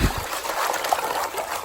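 Creek water sloshes and trickles in a gold pan as gravel is swirled in cold water, a brief close, steady watery churn.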